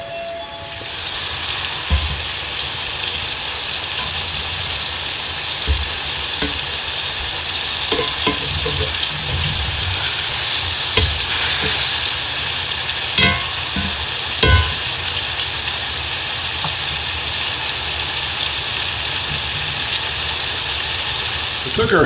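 Steak searing in a cast iron skillet as a continuous loud sizzle, with occasional thuds and scrapes from handling the pan, under a low steady background hum.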